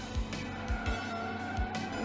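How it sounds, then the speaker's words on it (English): Arcade racing car in Slipstream drifting through tight coastal corners, a repeated tire squeal and skidding engine sweeps under a synth music track, short and fairly close. "Really need that drift to get around those tight corners."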